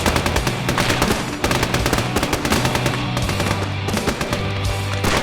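Half-track machine gun fire in an Army Men war video game, a loud, dense stream of rapid automatic bursts that runs almost continuously, with another engine drone beneath and no talking.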